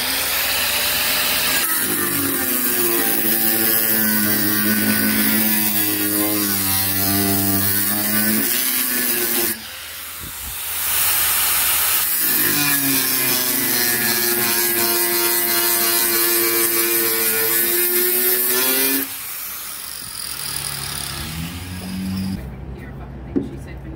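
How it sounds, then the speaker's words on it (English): An angle grinder cuts a metal tailgate step part on a Ford Ranger, a loud sustained whine that wavers in pitch across two long passes separated by a short break, close and harsh. "So I've got my angle grinder out and just removing the second one now."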